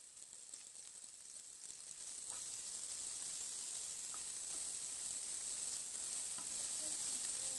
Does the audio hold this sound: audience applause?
no